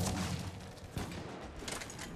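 Gunfire in the video game Mass Effect 3 while playing a Quarian Engineer, a rapid stream of sharp shots and thuds, fairly faint, running continuously with no talking.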